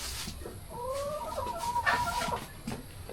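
A chicken on a farm clucks and makes a drawn-out call against a noisy background, moderately close, lasting a couple of seconds.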